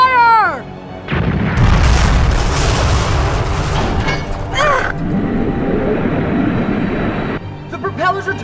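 Cannon fire from a ship in the anime Hunter x Hunter (1999): loud booming barrages with explosive bursts, dense rumbling blasts and scattered pops, with shouted voices heard between shots.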